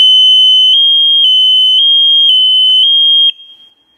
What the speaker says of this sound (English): at the end of the cycle, then you'll get an alarm